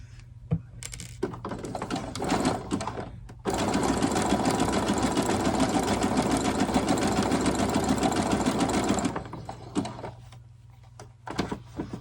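A sewing machine stitches doll underwear in a long steady run of fast, even needle chatter, close and loud, with brief stops and handling noises before and after.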